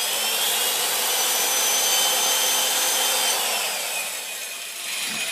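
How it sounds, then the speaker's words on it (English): A 700 power drive spinning a steel pipe in a power pipe cutter setup makes a steady, loud mechanical whirring rush that dips slightly near the end, with no voices. "So once the 700 power drive is in place and it's rotating the pipe"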